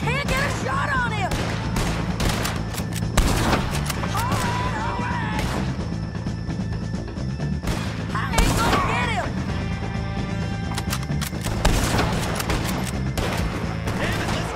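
Gunfire in Red Dead Redemption 2 during a shootout with O'Driscoll bandits, loud repeated shots and crashes over a dense score, with character voices talking at times.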